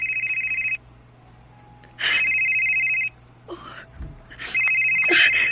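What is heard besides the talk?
telephone ringing with an incoming call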